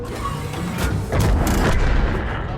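Heavy tank cannon blasts in a video game, on the Berlin map, boom over a constant rumbling engine drone, two or three loud shots in quick succession.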